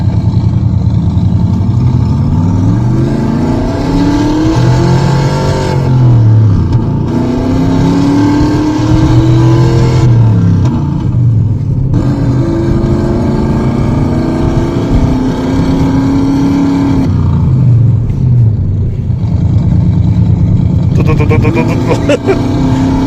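A Ford Mustang's 4.7-litre engine revs loudly and continuously, rising and falling in repeated sweeping pulls with a steady roaring drone close up.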